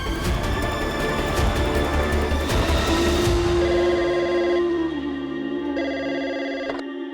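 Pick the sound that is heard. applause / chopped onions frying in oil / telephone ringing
telephone ringing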